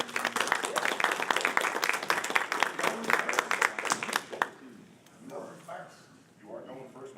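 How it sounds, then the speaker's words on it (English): Live audience applause at a RinCon 2018 gaming conference, a dense burst of clapping filling the room for several seconds before it fades and a voice begins talking. "Give him a round of applause."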